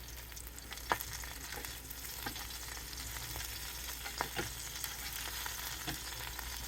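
Breakfast food, including eggs, tossed around in an air fryer basket: a continuous close rattling shuffle with scattered light knocks and bumps throughout, no voices.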